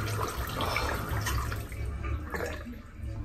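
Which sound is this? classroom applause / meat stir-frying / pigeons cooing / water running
water running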